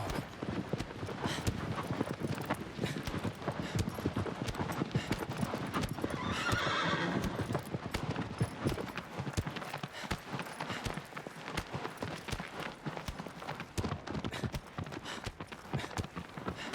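Horse hooves gallop in a fast, steady clip-clop in the Shadow of the Colossus remake, loud and continuous, with a brief whinny partway through.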